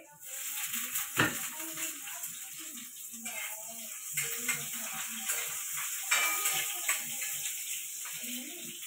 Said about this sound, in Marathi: लसूण लाल झाला, कांदा टाकून घेते.